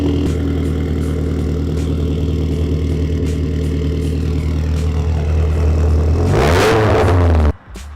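A Subaru WRX fitted with custom DIY exhaust tips idles with a loud, lumpy burble close by, then revs sharply upward near the end before cutting back abruptly.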